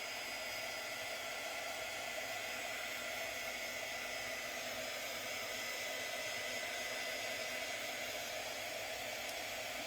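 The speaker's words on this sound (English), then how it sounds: "I'm going to take my heat gun and I'm going to just heat set this" A heat gun blows steadily while heat-setting stamped ink on a card, a continuous even rushing whir at close range with no breaks and no voices.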